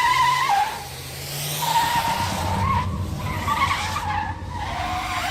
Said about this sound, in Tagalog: Hindi man sigurado sa pupuntahan ay pinaharurot ko ang kotse.